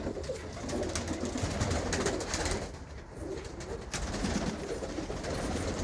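A pigeon hen, a racing bird with yellow eyes, coos in soft, repeated throaty phrases close by, with a steady background hum and no talking.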